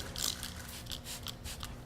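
Motorcycle cleaner is sprayed from a trigger bottle in a series of quick hissing bursts, about six spritzes in close succession, near and fairly soft.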